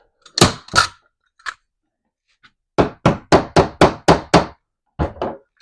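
Hammer strikes re-fixing staples into a dresser backboard: two loud blows, a faint tap, then a rapid run of about seven sharp close whacks and two final hits.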